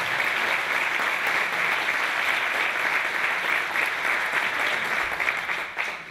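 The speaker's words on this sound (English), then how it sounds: "I think that deserves a round of applause." An audience at a Christmas carols show gives a sustained round of applause, a dense, steady wash of many hands clapping that carries on for several seconds before easing slightly at the end.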